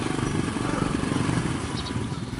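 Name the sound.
motorized rickshaw (becak motor) engine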